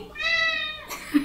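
A house cat gives one clear, sustained meow up close, followed by a short rustle and a thump at the end.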